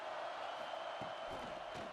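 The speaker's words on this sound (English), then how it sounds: "This crowd bringing an ear-splitting welcome to their visitors" Football stadium crowd roaring a loud welcome for the visiting team, a dense sustained wall of cheering with a few louder whoops rising near the end.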